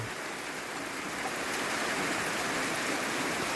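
Steady, even rain pours down over a rice farm, a dense continuous hiss with no pauses and no voices.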